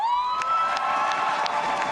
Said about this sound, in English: I also want to hear a big round of applause for the LA Valiant